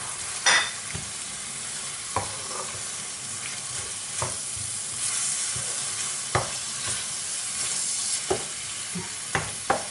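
Cut squid stir-fried with seafood rice in a pan, a steady sizzle punctuated by sharp, regular scrapes and knocks of a spoon against the pan, near and without speech.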